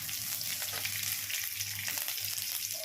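Chopped green chillies sizzle and fry in hot oil with dried red chillies, a steady close crackle with light stirring and no talk.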